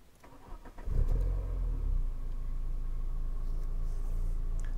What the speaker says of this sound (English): I guess we should fire her up so you can hear the 2-litre engine